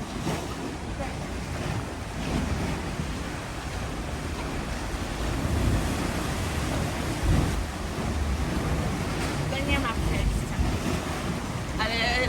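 Ocean waves on the Algarve coast in Portugal surge and wash continuously, heavily buffeted by wind noise on the microphone, with a person's voice briefly audible over the surf.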